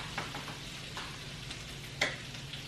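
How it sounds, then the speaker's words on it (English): Bacon sizzles in an oven, a soft, continuous crackle and fizz heard at a distance, with a few faint ticks and one sharper pop. "I got bacon in the oven."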